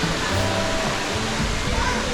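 Sticky Waterfall (Bua Tong) near Chiang Mai, Thailand, a steady close roar of rushing water that fills the short clip, with a voice faintly mixed in.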